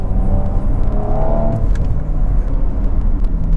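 An Audi RS4 Avant, a BTCC champion's car, accelerating hard through its gears: a loud, raucous, gargling engine roar with a steady rumble and a brief rising whine, heard close and continuous.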